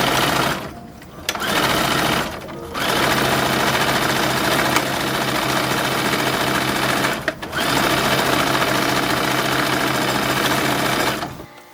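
A sewing machine stitches a silk jacket for a porcelain doll, its steady close whirr running in long bursts broken by a few short pauses.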